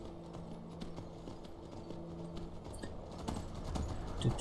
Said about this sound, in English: Behold my mighty steed.